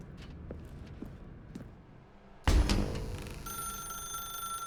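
In The Stanley Parable: Ultra Deluxe, faint footsteps tap along before a telephone suddenly bursts into loud, sustained electronic ringing that continues to the end.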